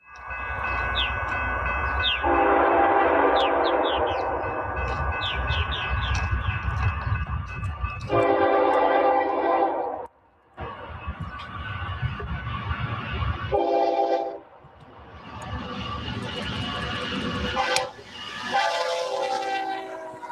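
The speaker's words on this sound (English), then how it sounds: "a westbound Z train rolling overall downgrade but up a slight hill here thunders past" A BNSF westbound freight train roars past close by on a slight upgrade, its horn blaring in several long blasts over the heavy rumble and rattle of passing cars.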